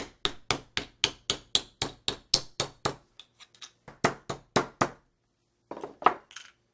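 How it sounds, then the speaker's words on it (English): Aluminium from used coffee pods is hammered into jewellery shapes, giving a quick, even series of sharp metallic taps, close and clear, that pauses briefly and then resumes, ending with a few scattered clinks. "I'm now shaping the aluminum, which I took from used coffee pods."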